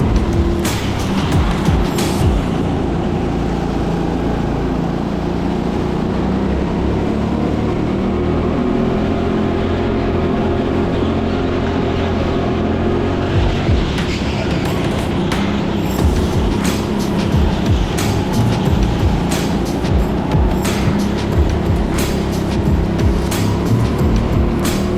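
A racing kart engine on an indoor TeamSport Sheffield track drones loudly and steadily for the whole stretch, with revs rising and falling through corners. Brief sharp knocks and clatters are heard, and there is no talk.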